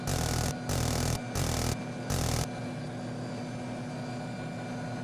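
A helicopter flies in the VRChat game as a loud steady engine and rotor roar that pulses in several bursts, then settles into a quieter continuous drone, with no one talking.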